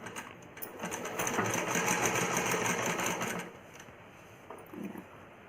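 A sewing machine runs steadily for a few seconds while joining frills onto a small umbrella frock for a child, then slows and stops, followed by a brief soft rustle of fabric.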